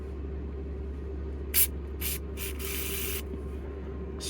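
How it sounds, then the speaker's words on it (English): Several short hissing bursts of spray cleaner aimed at the contacts of a car's power mirror switch, each a quick puff over a steady low hum, heard close and alone. "Spray a little bit of that into the surfaces."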